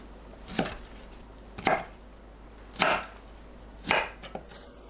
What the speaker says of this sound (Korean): 브로콜리를 한입 크기로 썰면 되는데 줄기 부분은 얇게 썰어야 식감이 잘 어우러집니다.